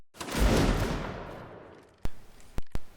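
A company of soldiers fires a rifle volley: one loud, booming blast rolls out and slowly fades, followed by three sharp, separate late shots, heard in the open with no talking.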